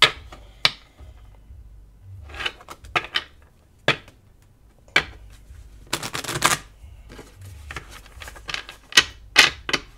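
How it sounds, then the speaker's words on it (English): Tarot cards being shuffled and drawn by hand, a string of crisp slaps and riffling flutters close up, including one longer riffle, with no talking. "I'm going to draw 5 more cards."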